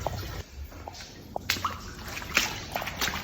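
Water splashes and sloshes as it is drained, in a run of irregular, close wet splats and gurgles over a murky background, with no talking.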